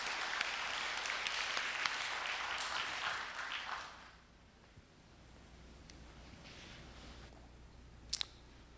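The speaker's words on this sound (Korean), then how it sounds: "우리 박수로 환영하도록 하겠습니다" A church congregation claps to welcome an elder who is about to give his testimony. The dense applause is moderately loud for about four seconds, then fades to a quiet room with a few scattered sounds.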